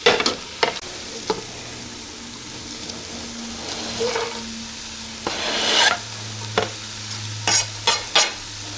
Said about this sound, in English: So what you do is just start mashing while they're frying.